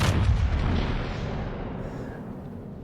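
Heavy naval guns boom in the World of Warships video game, one loud blast at the start decaying into a long rumbling tail, close and dominant with no speech.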